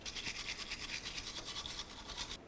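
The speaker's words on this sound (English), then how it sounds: "let's continue on by cleaning up the bolts themselves and of course the brackets for our carrier bearing for the axle" Axle bolts and carrier bearing brackets on a 2004-12 Volvo S40 are scrubbed with a brush, giving a steady, rhythmic scratchy back-and-forth close up with no talk.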